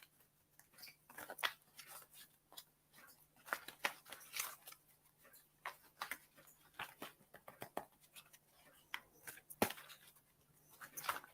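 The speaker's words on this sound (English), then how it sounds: "I'm just going to shuffle the cards for you, Helen." A deck of cards is shuffled by hand during a reading, giving quiet, irregular papery riffles and slaps in rapid bursts, close and soft throughout.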